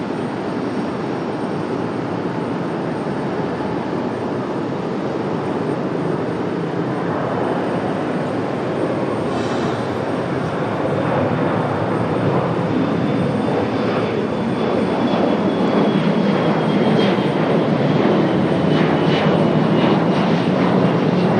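Airplane departing Raleigh-Durham International Airport, a broad, steady engine roar heard from a distance that swells gradually louder over about twenty seconds, with no voices.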